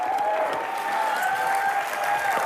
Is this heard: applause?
yes